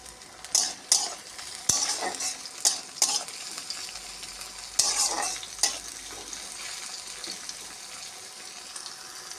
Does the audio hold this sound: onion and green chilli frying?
yes